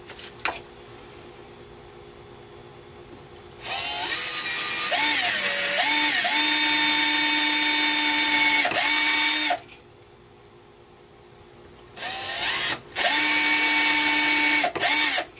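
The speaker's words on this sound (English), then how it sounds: "I'll drill a smaller pilot hole in the wood." A power drill drilling a pilot hole in wood whirs loudly in long bursts, its pitch rising and dipping under load, stopping briefly, then running again in two more short runs.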